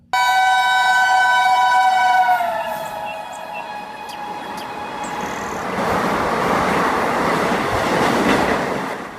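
A train sounds a loud, sustained horn that fades after a couple of seconds, followed by rushing, rumbling rail noise as the train passes.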